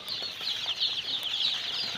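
A dense, continuous chorus of high-pitched peeping from two thousand Colour Bird chicks in a poultry shed, steady and close, filling the whole stretch without pause.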